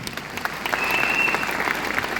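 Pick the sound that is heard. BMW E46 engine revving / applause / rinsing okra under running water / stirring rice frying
applause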